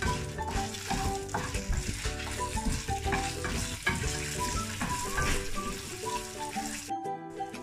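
Urad dal and chillies frying in hot oil, a busy crackling sizzle with repeated scraping stirs and clinks, close and steady, then a brief drop near the end.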